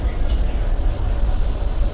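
A passenger train runs on the Kolkata–Ludhiana route with a motorbike loaded aboard, heard as a steady low rumble and rattle of carriages from inside, continuous and fairly loud with no clear speech.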